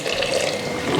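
Thin second coconut milk, squeezed from half a coconut, pours steadily into chili paste for a sardine curry with green mango, a continuous close liquid splash with no speech.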